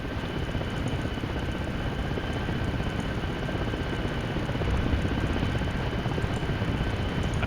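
A helicopter in a military video game drones steadily and evenly throughout, its rotor and engine noise forming a constant dense rumble at moderate distance with no talk over it.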